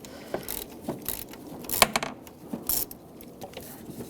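Socket ratchet clicking as it backs out a T25 screw on the radiator of a 2010-2014 Volkswagen GTI 2.0 L4, with scattered metallic ticks and clacks at close range in short irregular bursts.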